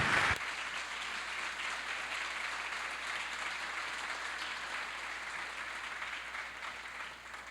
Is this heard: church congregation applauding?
yes